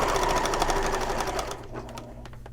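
Sewing machine running a long stitch line on a shoulder bag, rapid steady needle rhythm close by that slows and thins out toward the end.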